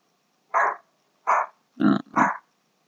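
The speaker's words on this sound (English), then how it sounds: "Dog barking." A dog gives four short, close barks: two single barks spaced apart, then a quick pair with a gruff, growly edge, against silence.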